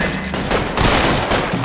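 Loud, dense bursts of gunfire from a shootout at an electroplating works in the LA Noire video game, rapid overlapping shots filling the short stretch with no pauses.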